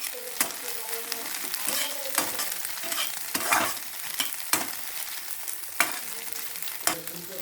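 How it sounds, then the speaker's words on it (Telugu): An egg sizzles and fries in a pan for street style fried rice, a steady close crackle broken by sharp scraping stirs of the spatula, with no talk over it. "సో మనమైతే ముందే ఎగ్ వేసినప్పుడు లైట్గా వేయించుకోవాలి"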